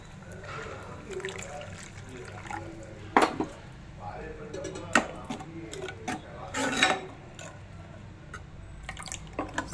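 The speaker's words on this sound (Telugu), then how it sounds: "ఇంకా కొంచెం పోస్తాను, అది ఫిష్ కుక్ అవ్వాలి కాబట్టి కొంచెం పోస్తా వాటర్" Water poured into a pan of fish curry, with scattered splashes and clinks of utensils against the pan close by, interrupted by a few louder knocks, and a voice talking now and then.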